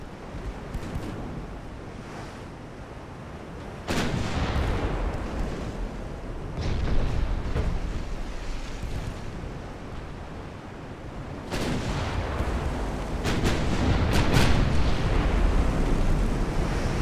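Warship guns firing in Ultimate Admiral: Dreadnoughts, Italy 1890, heavy booming salvos with a sharp onset near the start and another later, over a constant roar of wind and rough sea in stormy weather.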